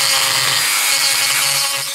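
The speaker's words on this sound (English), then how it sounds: "the Dremel tool can be used to drill out the rivets in metal cars" A Dremel rotary tool whines at high pitch, its motor speed drifting slightly up and down, running steadily close by with a faint grinding edge before easing off at the end.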